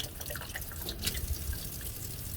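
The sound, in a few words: water running over tumbled rocks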